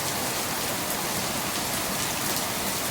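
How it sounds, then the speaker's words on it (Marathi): Heavy monsoon rain in Mumbai pours down in a dense, loud, unbroken hiss of drops striking surfaces, steady throughout with no talking. "पावसाचा जोरही तुम्ही म्हणजे पाहू शकता किती मोह आहे तो"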